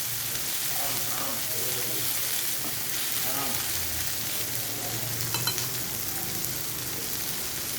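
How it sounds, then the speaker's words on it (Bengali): Flattened rice fries in hot oil in a pan, with a steady, even sizzle and crackle that runs throughout, broken now and then by scraping as it is turned, and a soft voice faintly underneath. "ভাজা হয়ে এসছে। আমি একটু উল্টে দিচ্ছি।"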